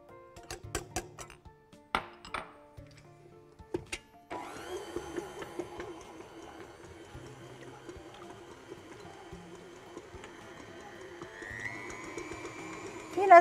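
Butter and sugar going into a mixing bowl, a few sharp clinks and knocks at first, then a steady electric mixer whirring continuously as they are beaten together, loud and close with a slight rise in pitch near the end.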